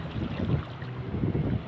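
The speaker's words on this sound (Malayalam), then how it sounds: "ബോട്ട് തിരിക്കുന്നു." A boat turns around on open water, giving a low, continuous rumble of engine and wind noise. No voices are heard.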